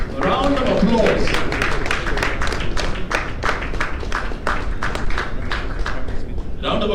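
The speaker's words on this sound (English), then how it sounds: "A round of applause." An audience at an awards ceremony for governors, MPs and county assembly speakers claps in loud, steady applause, many hands close and dense, with a voice speaking over it near the start.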